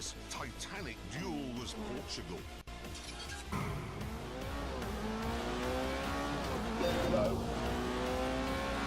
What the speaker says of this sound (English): we're now in the Porsche, still as Clarkson